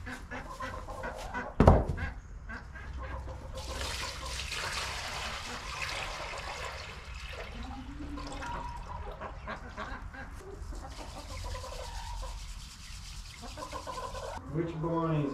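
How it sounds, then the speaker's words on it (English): Water sloshes and splashes in a tub as a duck is given an Epsom salt bath in a barn, a soft, continuous wet churning with a sharp bird call near the start and someone talking quietly over it. "I'm gonna give her an Epsom salt bath just to see if that's gonna help her out"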